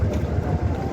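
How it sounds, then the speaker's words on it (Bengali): A trawler boat pulls away from a river ferry ghat, its low engine drone and rumbling water wash steady and close, with wind buffeting the microphone throughout. "ওই যে দেখুন একটি ট্রলার ছেড়ে আসছে ফেরিঘাট থেকে।"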